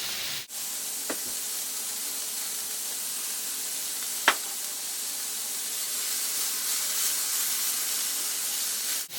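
Oil heating over medium heat in a frying pan, set out for crabless crab cakes, gives a steady soft hiss and sizzle throughout, with a couple of brief clicks along the way and no talking.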